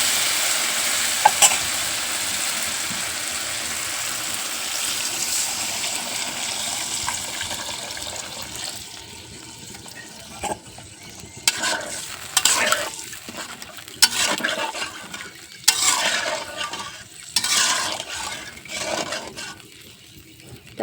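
Broth is poured into a Bangladeshi shing fish and tamarind curry, first a steady bubbling sizzle, then rhythmic clanks and scrapes of a spoon stirring the simmering pot close by.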